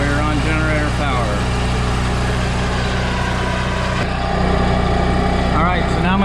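An RV generator drones at a steady, loud, close hum while someone talks over it, and a faint click sounds partway through.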